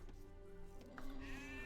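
Quiet sheep bleats in a strategy game match, a wavering animal call rising near the end under faint background game noise, with no talk.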